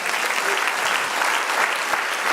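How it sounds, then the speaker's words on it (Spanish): A church congregation claps together in a steady, dense burst of applause lasting a couple of seconds, filling the room evenly at close range. "Denle un aplauso al Señor"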